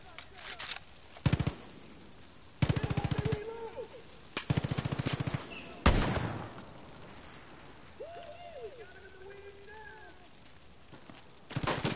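Bursts of automatic gunfire from the video game Far Cry New Dawn, several loud rapid volleys spaced a second or two apart, with game sounds between them and no talk over them.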